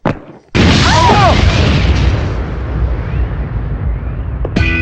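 A bomb hidden inside a suitcase goes off in a comedy scene: a sudden loud boom after a brief quiet start, followed by a long rumbling, crackling decay with faint squealing effects and a sharp new burst at the end.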